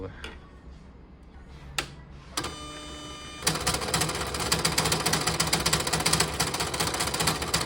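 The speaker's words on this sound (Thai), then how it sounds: "ผมลองขยับหัวพิมพ์ออกมาดู" An Epson LQ2090 dot matrix printer with a print head that runs to the left side and sticks starts with a few clicks and a brief voice, then a loud, dense, rapid mechanical buzzing and rattling as the head moves.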